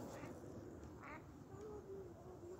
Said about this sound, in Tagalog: meron pa naman doon sa gilid-gilid mga itik